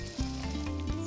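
Eggplant stuffed with meat sizzles and fries in a pan, meat side down, giving a brief, steady close crackle of hot oil with no talking.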